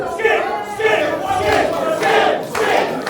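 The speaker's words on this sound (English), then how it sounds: "As the crowd gets thoroughly behind Sunset Skip here." A wrestling crowd at an independent pro wrestling event cheers and chants loudly in steady rising swells for a wrestler, the roar filling the arena without a break.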